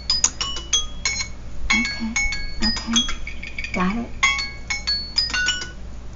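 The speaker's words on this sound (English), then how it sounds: "that's my alarm." Alarm timer going off, a series of bright bell-like chimes and beeps ringing in irregular bursts, moderately loud, with a person speaking briefly over it.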